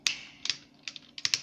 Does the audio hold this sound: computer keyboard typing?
yes